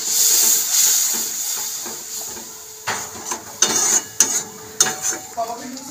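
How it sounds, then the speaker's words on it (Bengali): Water is poured into hot fried masala in a pan for a mixed vegetable curry, setting off a loud rushing hiss that slowly fades. Sharp clinks and scrapes of the spoon against the pan follow. "এবার আমি জল দিয়ে দেবো"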